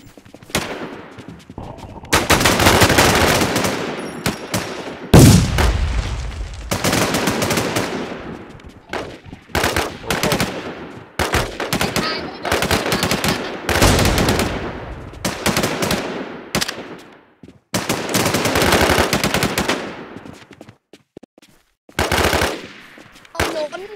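Rapid automatic gunfire and single shots from the Infestation shooter video game, in loud repeated bursts separated by short gaps, with a faint voice now and then.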